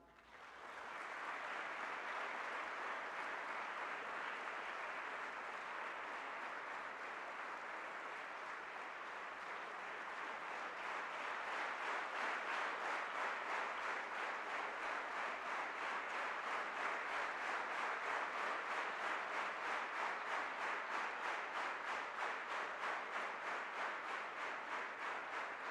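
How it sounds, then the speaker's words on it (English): Sustained audience applause at a bilingual declamation contest in a college hall, a dense even roar of many hands clapping that continues steadily, swelling slightly louder midway, heard from a distance and fairly faint. "please join me in giving a warm round of applause to a true Petarian, an inspiring leader"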